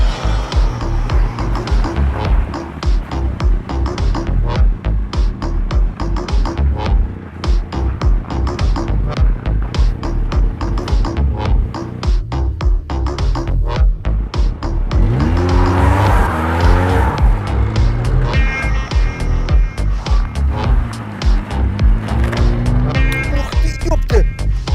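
A light Japanese car climbing a steep, rough hill on poor tires, its engine straining loudly and revving up and down throughout, with a sharp surge midway and someone talking over it.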